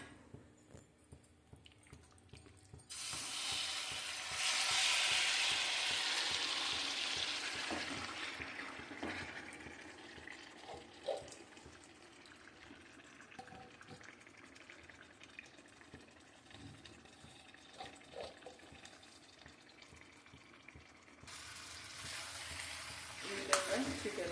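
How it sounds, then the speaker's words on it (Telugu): Marinated chicken hits a spoonful of hot oil in a pot on the stove, bursting into a loud sizzle that gradually settles into quieter crackling and bubbling, with faint clatter. "ఒక స్పూను నూనె పోసుకొని డైరెక్ట్ ఆ చికెన్ని దీంట్లో వేసేసుకోండి"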